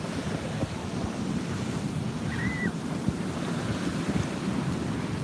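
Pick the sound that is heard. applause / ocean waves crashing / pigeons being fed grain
ocean waves crashing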